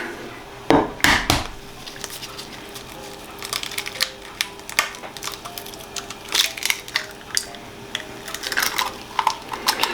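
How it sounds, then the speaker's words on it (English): An egg is cracked into a meatball mixture with onion while cooking spaghetti and meatballs: a couple of sharp, close cracks near the start, then scattered lighter clicks and taps from handling in the kitchen. "Go ahead and just go crack 1 egg."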